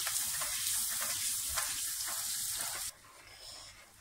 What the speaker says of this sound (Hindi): इसको अब हमने अच्छी तरह से 5 मिनट के लिए भूनना है।